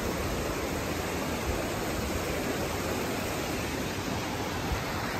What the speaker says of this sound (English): That must be the edge of the falls.